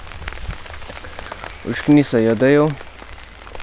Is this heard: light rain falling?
yes